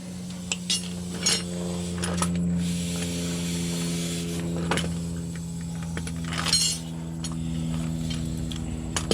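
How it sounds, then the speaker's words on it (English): Light metallic clinks and ticks of a wrench working a nut against a second jam nut on a threaded stud, a few scattered taps close by over a steady low hum, with no talking. "take another nut, thread it down to it, hold one with a wrench,"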